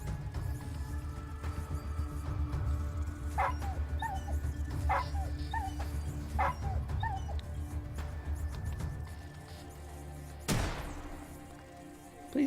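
A dog in the video game Atom RPG barks and yips several times in short bursts over a droning background, followed by a louder crash near the end.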